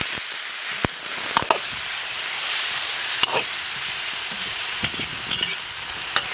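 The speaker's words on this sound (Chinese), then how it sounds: "锅里倒点油，油后下入葱蒜干辣椒，炒起下入洋芋" Potatoes stir-fry in hot oil with scallion, garlic and dried chili, giving a continuous close sizzle broken by a few sharp scraping and clanking strokes from the spatula.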